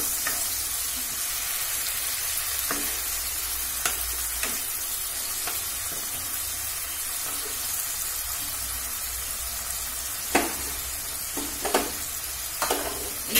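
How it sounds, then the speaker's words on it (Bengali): Masala frying in a pan for spicy prawn kosha after a splash of water goes in: a steady, dense sizzle throughout, with a few sharp clinks of stirring near the end. "অল্প একটু জল দিলাম, আমি মশলাটা না হয় পুড়ে যাবে"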